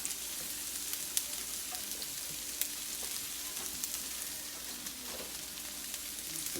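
Onions caramelizing in a pan give a steady, close sizzle with a few faint clicks of stirring, heard alone without talk.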